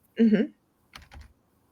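A short murmured vocal sound, then a brief cluster of a few light computer keyboard keystrokes, close and quiet, followed by silence.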